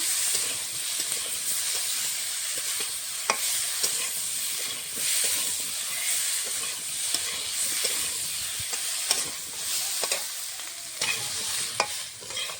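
Steady frying sizzle from a pan of vegetables with salt and turmeric powder, a continuous bright hiss with occasional small pops and light scraping, no voices.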